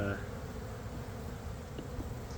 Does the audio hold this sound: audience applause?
no